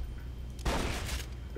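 A short burst of rapid gunfire from a weapon in the video game Borderlands 2, erupting loud and close after a quiet moment and lasting about half a second before cutting off.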